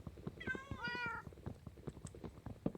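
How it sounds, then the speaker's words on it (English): Pet cats in Minecraft give a clear, quavering meow early on, over soft clicking game sounds that carry on quietly afterward. "Now y'all can hear the kitty cats."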